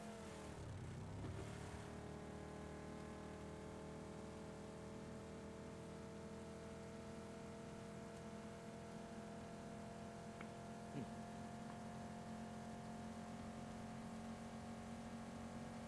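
A car engine in PUBG hums steadily at close range, with a brief revving sweep at the start, then a sustained, even drone that stays faint throughout.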